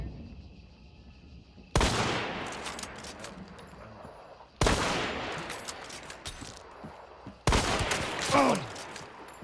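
Three heavy gunshots in Hunt: Showdown, spaced a few seconds apart, each loud and booming with a long rolling echo that decays before the next shot.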